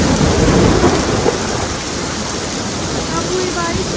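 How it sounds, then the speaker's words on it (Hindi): Heavy unseasonal rain pours steadily, with a broad, loud hiss close by and a low rumble of thunder underneath, during Diwali time; a voice speaks faintly beneath the downpour. "बारिश तो बहुत तेज हो रही है यहाँ पर"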